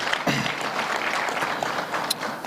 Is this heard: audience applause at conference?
yes